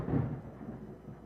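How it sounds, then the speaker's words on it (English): Quiet, low thunder rumbles from a distance, swelling early and then fading into a soft, drawn-out roll. "That was pretty good thunder."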